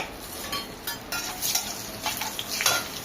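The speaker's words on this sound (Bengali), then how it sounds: "শুকনো লঙ্কা, তেজপাতা, দারচিনি, বড় এলচি, লবণ, ছোটো এলচি সব তেলের উপরে দিয়ে দিলাম" Whole spices (dried red chillies, bay leaves, cinnamon, black and green cardamom, and salt) drop into hot oil and sizzle softly, with a thin, crackling fry and a few light clinks. No one speaks.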